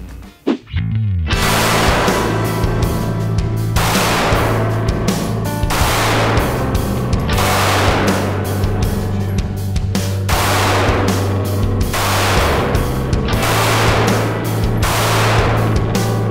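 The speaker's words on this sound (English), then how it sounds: "Alright, so we shot the FNS 9C." Rapid, loud pistol fire from an FN FNS 9C compact striker-fired handgun, roughly eight sharp reports spaced about two seconds apart, each ringing out broadly over a steady low background hum.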